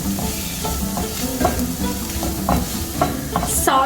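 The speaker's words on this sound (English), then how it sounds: "Saute the mixture till the raw smells goes" Kashmiri chili powder, turmeric and salt sautéed in a pan over low to medium flame, with a steady sizzle of frying under repeated scraping stirs of a spoon against the pan, fairly close and continuous.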